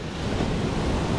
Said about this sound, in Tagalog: yan ang alon pa rin natin mga kalibre, lalaki pa rin ang alon.